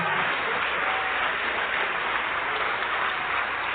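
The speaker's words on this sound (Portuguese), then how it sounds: "Vamos aplaudir mais o Senhor Jesus." A church congregation claps together in a continuous, even patter of many hands, sustained and fairly loud across the whole stretch with no talk over it.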